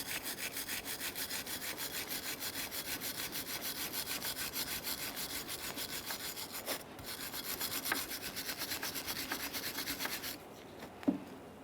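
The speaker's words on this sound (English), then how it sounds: "We're going to use a wire brush along the 2 areas, one on each side of the bracket" A wire brush scrubs the rear brake caliper bracket of a 2009-2014 Nissan Maxima in fast, continuous back-and-forth rasping strokes, close and steady, stopping near the end with a brief knock.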